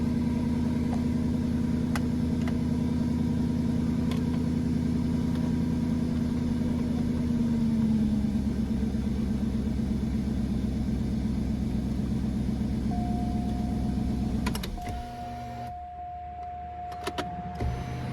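2002 Cadillac Northstar V8 with misfire codes idling rough, a steady low engine drone that shifts pitch midway, then drops before a short electric whine near the end, no talk.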